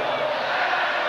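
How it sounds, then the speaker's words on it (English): A basketball crowd at Cameron Indoor Stadium jeers a foul call during a Duke versus Clemson game, a dense, loud roar of many voices filling the arena without a break. "And that will draw the wrath of the crowd"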